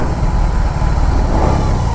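A BMW R18 motorcycle engine revving, a loud, steady low rumble close by with no talk over it.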